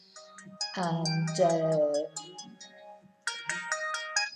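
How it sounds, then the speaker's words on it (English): A mobile phone ringtone plays a bright, melodic electronic tune in several phrases, loud and near in a quiet room, with a brief spoken word between the phrases. "sorry, that was my phone. I forgot to turn it off before I started the video."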